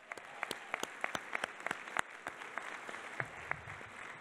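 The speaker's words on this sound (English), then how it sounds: "I want to hear a big, big applause for the next generation." A school audience at an education excellence awards ceremony bursts into steady applause, many hands clapping at once with sharp claps standing out, continuing for several seconds without talk.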